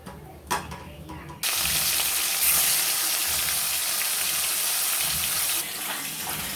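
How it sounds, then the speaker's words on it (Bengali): Catla fish pieces dropped into hot oil, a quiet clatter followed by a sudden loud, bright sizzle that holds steady and eases slightly near the end, close up. "তেল গরম হয়ে গেছে। আমি এবার মাছগুলো ছেড়ে ভেজে নেব।"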